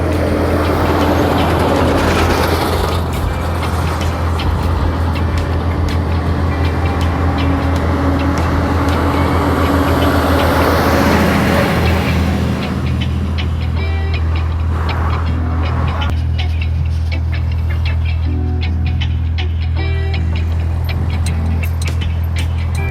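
Big trucks passing on the steep Spur Tree hill road in Manchester, Jamaica, a loud, continuous heavy engine roar with deep low rumble that swells for several seconds and then gradually eases as the traffic moves off, with no talking.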